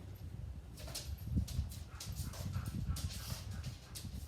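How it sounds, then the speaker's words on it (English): A dog whimpers softly nearby while shuffling and moving around, with faint paw sounds and small thumps scattered throughout. "that's my dog walking"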